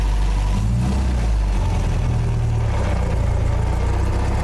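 A 1960s MGA 1600 Roadster's four-cylinder engine runs loudly and close while the car drives in gear, a steady low rumbling drone with slight rises in revs.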